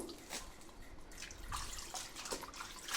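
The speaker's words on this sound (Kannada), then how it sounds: "ಸ್ವಲ್ಪ ಸ್ವಲ್ಪನೇ ತೆಗೆದು ತೊಳ್ಕೊಂಡ್ರೆ ನೀಟಾಗಿ ಮಣ್ಣೆಲ್ಲ ಹೋಗಿರುತ್ತೆ" Quiet splashing and sloshing of water as leafy greens are swished and rinsed a little at a time to wash off soil, with soft drips between movements.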